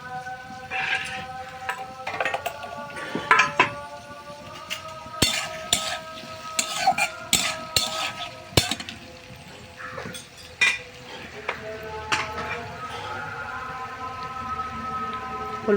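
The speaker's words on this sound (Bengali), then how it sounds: "মশলাগুলো ভালো করে কষিয়ে নেবো আমি" Spices being stirred and sautéed with fried potatoes and chopped tomato in a pan, a steady sizzle under repeated scraping and clinking of a spatula against the pan.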